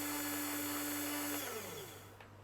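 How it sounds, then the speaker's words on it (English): A steady mechanical whine hums as a drill bores into a metal sample, then its pitch sweeps down and trails off as the drill winds down near the end. "The drill is now in contact with the surface of the sample"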